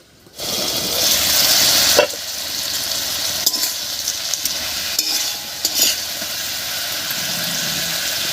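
Lifting the lid off a pan of drumstick and potato curry, then a steady close sizzle and bubbling with a few clinks and scrapes of stirring; no one speaks.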